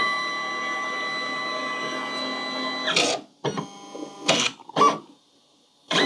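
A Silhouette Curio 2 cutting machine runs a pass on Sculpey clay with a 2 mm blade, a steady whirring motor hum followed by several short, choppy mechanical bursts and pauses, close and alone.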